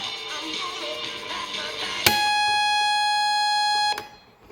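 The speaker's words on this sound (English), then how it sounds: "let's see if that comes on with the alarm sound." A 1978 GE clock radio alarm buzzes in one sustained, harsh tone for about two seconds after quiet room noise, then cuts off abruptly.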